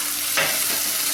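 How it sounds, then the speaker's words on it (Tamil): Bitter gourd frying in oil is turned over in the pan, producing a short burst of sizzling and stirring over a steady hiss. "எல்லா பக்கமும் இந்த ஆயில் படுற மாதிரி பாவக்காயை பெரட்டி விட்டுக்கோங்க."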